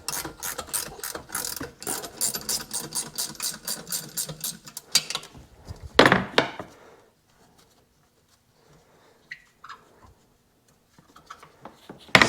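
A ratcheting wrench clicks in rapid bursts while loosening bolts on a 2001 Sea-Doo RXDI personal watercraft, close up. Sharp clatter and a few softer mechanical touches follow before quiet stretches.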